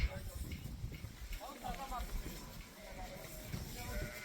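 A sheep at an Eid al-Adha sacrifice in Afghanistan gives a few short bleats around the middle, mixed with people talking and outdoor bustle.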